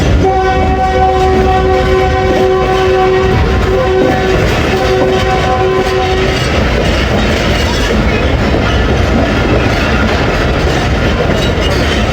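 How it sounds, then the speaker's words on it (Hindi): The 48 Down Rahman Baba Express pulls into platform 3 at Rawalpindi railway station. A loud, sustained horn blares for about six seconds over a heavy, continuous rumble of the train close by. "फाइनली 48 डाउन रहमान बाबा एक्सप्रेस रावलपिंडी रेलवे स्टेशन पे"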